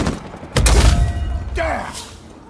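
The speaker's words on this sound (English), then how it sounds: "Laying down some pressure fire." Gunfire in Uncharted 4 multiplayer, a heavy, close report with a thudding low-end impact, followed by a fading rumble and a brief, higher whooshing trail.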